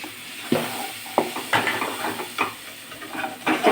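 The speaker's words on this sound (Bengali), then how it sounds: "মশলাটাকে ভালো করে কষাবো।" Spice masala for egg kosha, with ground cumin and coriander, fries in a pan with soft sizzling, broken by several sharp scraping stir strokes and clinks of a utensil against the pan.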